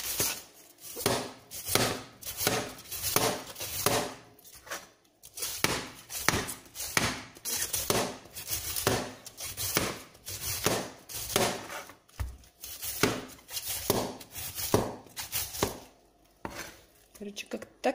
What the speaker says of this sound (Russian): когда режешь вот этим вот ножом